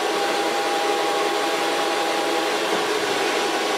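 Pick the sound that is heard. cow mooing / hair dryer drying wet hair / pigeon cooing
hair dryer drying wet hair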